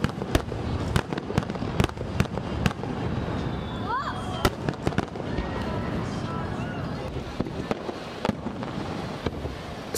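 Fireworks burst over the sea at the Usami sea fireworks festival, a rapid series of sharp cracks and booms echoing over a constant crowd murmur, some bangs loud and close, others fainter.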